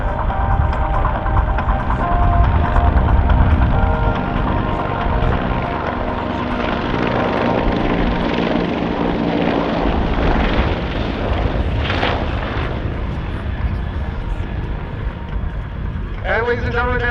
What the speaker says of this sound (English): CH-146 Griffin helicopters coming in.